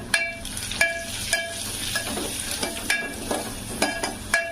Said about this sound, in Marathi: आपला कढीपत्ता छान तडतडला